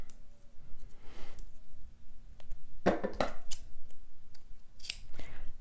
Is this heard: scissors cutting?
yes